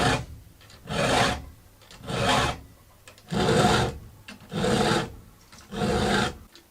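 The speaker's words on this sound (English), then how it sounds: "as soon as I'm done sharpening this, I'm going to check the rakers one more time" A hand file sharpens a fairly new chainsaw chain on a 20-inch bar, making five long, even rasping strokes at a steady rhythm, each separated by a brief pause, close and loud.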